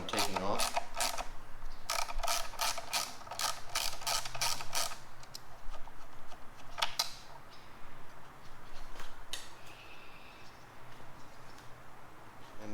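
A T25 Torx screw being unscrewed from the brake light of a Can-Am Ryker: bursts of quick, fairly faint ratchet-like clicks and creaks in irregular runs, spread across the clip.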